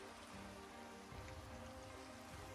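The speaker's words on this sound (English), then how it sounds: "Sounds like it's raining." Rain falling in Minecraft, a steady soft hiss of drops on surfaces that carries on without a break, very faint and with no voices.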